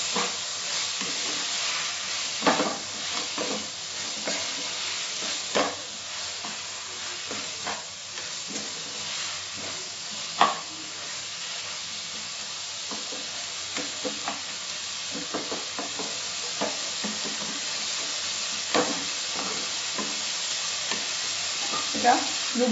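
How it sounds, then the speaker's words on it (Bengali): Tomatoes with a little salt are stirred in a frying pan for a spicy tomato crab dish, giving a steady close sizzle with repeated scraping and clacking strokes throughout and no talk. "ভালো করে মিশিয়ে নিচ্ছি।"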